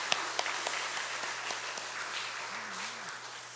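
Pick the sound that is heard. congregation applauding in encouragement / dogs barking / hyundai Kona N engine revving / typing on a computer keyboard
congregation applauding in encouragement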